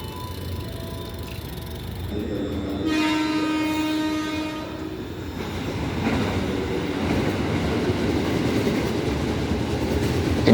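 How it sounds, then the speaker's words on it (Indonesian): A commuter train pulls into a station in Indonesia, its horn sounding a sustained tone partway through, then the rumble and rattle of the cars builds steadily and stays loud to the end. "Ini dia kereta tujuan Rangkas Bitung."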